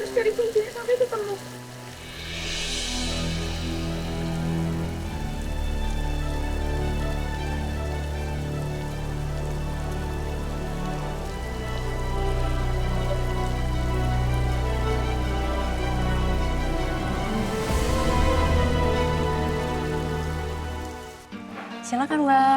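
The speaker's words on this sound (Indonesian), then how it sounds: "Hujan lagi." Steady rain falls in a soap-opera scene, a continuous hiss of drops on a surface heard beneath music throughout, fairly loud and unbroken.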